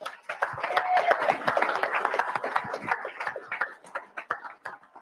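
Applause from a room of new drivers at an orientation meeting, a dense crowd of hand claps rising quickly and fading over several seconds, close and loud.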